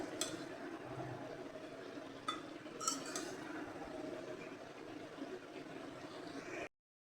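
A wooden or metal spoon stirs thickly cut potatoes, frying with flat beans in a cooking pan, giving steady scraping and shuffling with a few sharp clinks against the pan, close and moderately loud.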